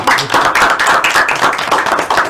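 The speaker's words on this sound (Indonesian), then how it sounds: "Ayo kita tepuk tangan buat kita." A class claps hands together, loud and close, a dense steady patter of many hands lasting a couple of seconds.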